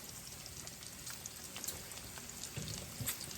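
Breakfast food, bacon among it, sizzling and spitting on a hot griddle, a steady close crackle with scattered pops and faint scraping clinks.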